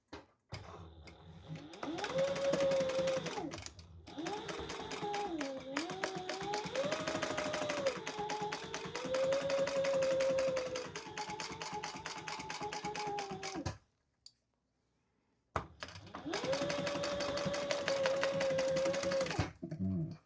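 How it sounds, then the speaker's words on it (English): A sewing machine stitches a seam on a crossbody bag in long, fast, rattling runs, pausing briefly before a short silence and a final burst. "Let's sew that together at the seam allowance in the pattern."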